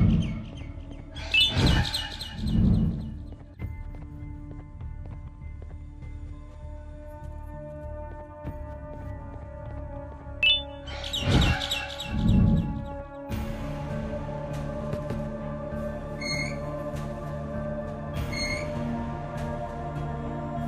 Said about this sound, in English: Bird up.